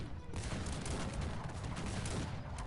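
Dense, continuous booming and crackling gunfire from artillery in the strategy game Cossacks 3, a busy rumbling battle din with a voice faintly present.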